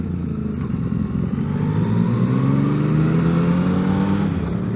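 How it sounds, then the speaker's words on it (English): Yamaha motorcycle engine answering small throttle inputs during a ride, a steady close drone that rises gently in pitch under a constant rush of wind. "You just barely hit that throttle, and you get response from the bike."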